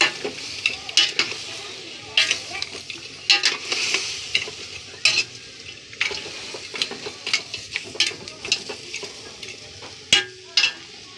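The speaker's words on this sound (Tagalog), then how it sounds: "Haluin natin." Food being stirred in a cooking pot, with repeated scraping and knocking of a spoon against the pot over a faint simmering sizzle, close and steady in rhythm.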